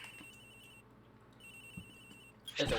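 An old-style telephone rings inside a video game, two long electronic rings separated by a pause, fairly quiet over a low background hum, followed by a burst of louder noise at the end.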